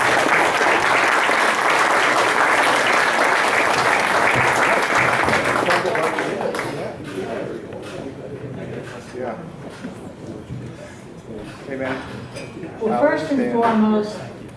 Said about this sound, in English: Let's give a round of applause for Sandy.